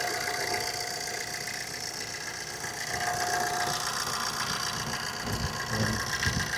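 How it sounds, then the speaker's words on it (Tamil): A 2011 Maruti Swift diesel car engine idles smoothly up close, a steady low rumble with a faint mechanical hum and light knocking texture, holding an even level with no talk. "இன்ஜின் ஆறுது சார். இப்போ ஸ்மூத்தாக இன்ஜின்."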